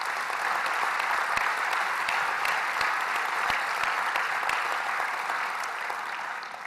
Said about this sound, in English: let's give the Saab team and everyone involved in this another round of applause